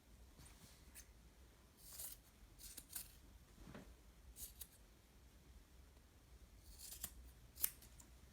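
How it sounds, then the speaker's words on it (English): Scissors cut straight across a t-shirt below the arms, making faint, scattered snips and soft fabric rustles in a quiet room. "I'm just going to start by cutting straight across right underneath the arms"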